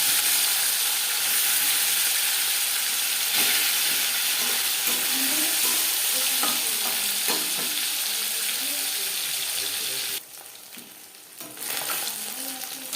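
Marinated katla fish fries in hot refined oil, a loud, steady sizzle and crackle that briefly quiets near the end before picking up again, with no talking.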